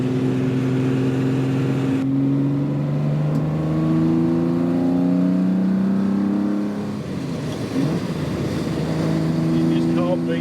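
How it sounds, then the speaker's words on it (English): A Ferrari 275 GTB two-cam V12 pulls away at low speed, a steady harmonic drone rising as it gathers revs, with a gear change midway and loud, close engine note throughout. "You just can't beat the sound of a V12 Ferrari."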